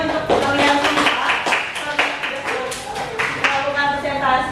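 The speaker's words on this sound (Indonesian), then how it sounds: "tepuk tangannya untuk kalian semua" A classroom group claps together, a dense run of quick, close hand claps lasting several seconds as a teacher's voice carries over the applause.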